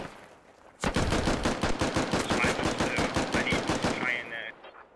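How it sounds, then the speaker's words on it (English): Rapid automatic gunfire erupts in the Squad video game, a loud sustained burst of close shots after a brief quiet start, tapering off with faint distant noise at the end. "Shots coming in close to this element here."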